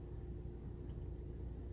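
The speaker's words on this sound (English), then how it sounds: "People with noisy cars driving by." Noisy cars driving by outdoors with revving engines, heard as a steady low rumble of traffic from some distance, continuous and fairly faint with no talking.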